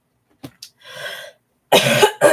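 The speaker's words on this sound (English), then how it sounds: "I got it in my chest, and I'm trying to cough it up." A person with a chesty cold gives a few short coughs, a brief breathy exhale, then two loud, harsh coughs close to the microphone.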